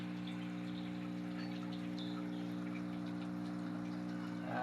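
Water is poured steadily into a tank holding crayfish, with a low running hum underneath, quiet and continuous, plus a few faint drips and splashes.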